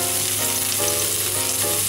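Shallots frying in a smoking-hot wok with two tablespoons of oil give a loud, steady crackling sizzle that holds for two seconds with no voices.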